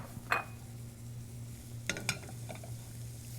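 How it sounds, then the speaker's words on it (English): Sliced garlic being tossed in melted butter in a pan makes a soft, quiet sizzle, broken by a few light clinks and scrapes of a utensil against the pan. "Now we're going to toss that all around, make sure it's all coated with butter."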